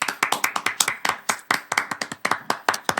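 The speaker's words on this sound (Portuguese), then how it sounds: "Uma salva de palmas." Applause from a small studio audience welcoming a guest onto a Brasília talk show set, heard as distinct, fairly sparse claps in an uneven rhythm, close and clear with no talking.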